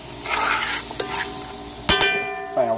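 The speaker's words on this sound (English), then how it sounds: "You have to stir fry up everything" Carrots and vegetables stir-fried in a pan for Jamaican curried lobster, a loud close sizzle with quick scrapes and a couple of sharp metallic clinks of a utensil against the pan.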